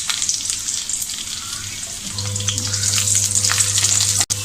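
Garlic cloves and fresh ginger sauté in hot oil for palak paneer, giving a steady close sizzle with small crackling pops throughout and a low hum that joins partway through.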